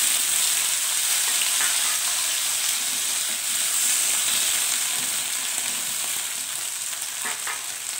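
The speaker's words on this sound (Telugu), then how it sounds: "ఇవి ముక్కలుగా కట్ చేసుకున్నా, అవి వేయించుకోవాలి." Four chopped tomatoes fry in oil in a pan, giving a steady, even sizzling hiss throughout, close and moderately loud, with only faint scraping near the end and no voices.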